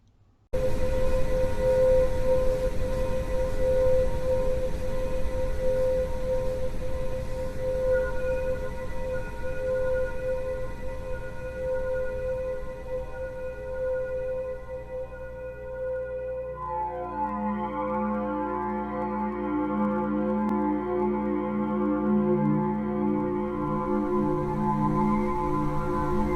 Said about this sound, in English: this is the sound that Pluto makes